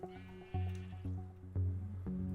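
Sheep bleating in Minecraft, a run of about five short, nasal bleats repeating in a quick, regular rhythm, clear and close.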